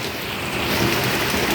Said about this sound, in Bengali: প্রচণ্ড আকারে বৃষ্টি হচ্ছে বাইরে